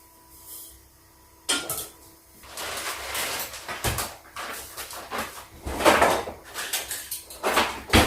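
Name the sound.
pot placed on stove, sugar added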